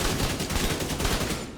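Video game gunfire, a dense burst of rapid shots blurring into one continuous loud roar for under two seconds.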